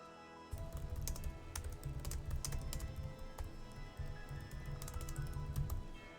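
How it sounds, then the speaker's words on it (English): Steady rapid clatter of keys on a computer keyboard, close and continuous, with overlapping bursts of keystrokes under a faint background hum and game music. "I'm just typing in all this stuff"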